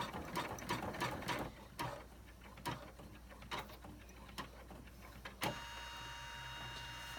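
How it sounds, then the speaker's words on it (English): Embroidery machine sewing a tack-down stitch for an in-the-hoop wallet, a faint mechanical whir broken by sharp irregular clicks and clunks, ending in a louder clack followed by a steady hum. "this is going to be a tack down stitch, and then it'll get a further tack down stitch"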